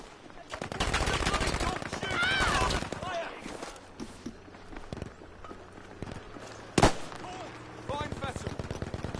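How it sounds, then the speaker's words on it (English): Rapid gunfire from a shootout on a rooftop in an online league video game match keeps up in bursts alongside footsteps and game noise, with one loud sharp blast near the end and voices talking over it. "They're having a shootout on the roof."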